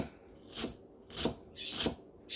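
A knife slices ginger into small thin pieces for Visayan beef halang halang, giving three or four soft, crisp cutting strokes spaced about half a second apart, close and fairly quiet.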